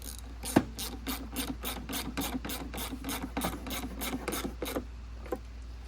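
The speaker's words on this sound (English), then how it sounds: "And then just throw the 3/8 bolts back in where they came out of." A ratchet wrench clicks in a fast, even run of about a dozen strokes as 3/8 bolts are driven back into the plastic housing of a Yard Machines mower, close and clear with no talking.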